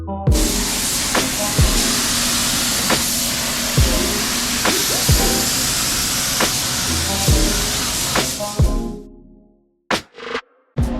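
A spray gun hisses continuously as it lays a light first coat of high-gloss, high-solids 4:1 clear coat on a car, broken by regular short trigger pauses, then it cuts off into near silence with a few clicks.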